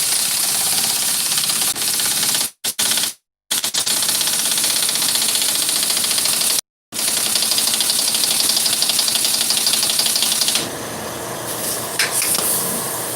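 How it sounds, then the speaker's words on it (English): An air compressor runs loudly and continuously on a job site during rainy work, a harsh steady mechanical drone that cuts out briefly a few times and shifts in tone near the end. "Air compressor's on."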